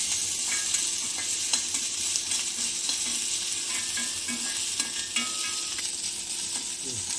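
Chopped ginger sautés in a pan, a steady close sizzle and fry with occasional soft stirring scrapes, no voices over it.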